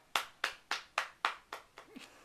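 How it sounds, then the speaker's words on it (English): A hand clapping sound effect in a children's bedtime story: seven sharp, loud claps close by in a steady, even rhythm, with the last clap softer and trailing off. "Then they clapped very, very hard."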